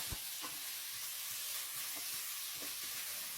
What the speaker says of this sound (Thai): ตามด้วยสันคอหมูที่เราหั่นเตรียมไว้ครับ ลงไปผัดเลยครับ